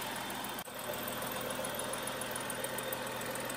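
A 2017 Ford Police Interceptor Utility engine, rebuilt after a wreck, idles steadily with a dense, rumbling drone and faint knocking texture, with a brief dip in sound early on, no voices.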